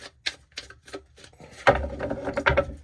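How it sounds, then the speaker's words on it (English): Tarot cards are shuffled by hand, a series of quick dry ticks and taps followed by a denser flurry of riffling card sounds, close and fairly quiet with no speech. "one more shuffle here"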